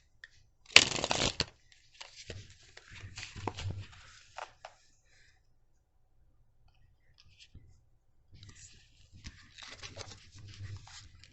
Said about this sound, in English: We're going to shuffle this tarot.